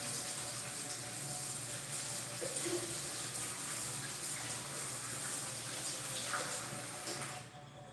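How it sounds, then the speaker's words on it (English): Tap water runs steadily into a sink for handwashing, a continuous close splashing flow that carries on unbroken and cuts off abruptly at the very end. "let's wash my hands"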